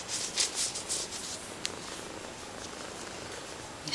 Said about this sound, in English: She loves to purr.